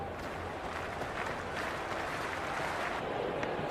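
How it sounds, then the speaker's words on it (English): A Cricket 26 video game crowd at an India versus Australia T20 match cheers and claps as a continuous faint roar of noise with no distinct breaks. "The crowd are making a heck of a lot of noise even before the first ball's been bowled"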